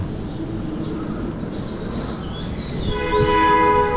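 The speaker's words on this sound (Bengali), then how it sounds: "পদ্মবিলা জংশনে ট্রেন এখানে মনে হয় দাঁড়াবে না না দাঁড়িয়েছে" A train slowing through Padmabila junction on the Khulna to Dhaka line, heard from on board as a continuous rumble of wheels on track with a horn sounding and wheel squeal rising near the end.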